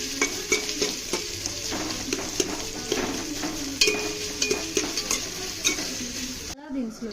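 Green chillies and onions sizzle and fry in about three spoons of oil for a Hyderabad-style chicken pulao. A spoon repeatedly scrapes and stirs the pan, and the steady close crackle continues without talk.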